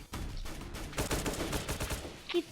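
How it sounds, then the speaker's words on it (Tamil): Gunfire rattles in the video game Deadly Heist as rapid bursts of shots, fairly dense and continuous, with a busy in-game soundscape around them. "இப்போ நம்ம இங்கே போய் சுடணும்"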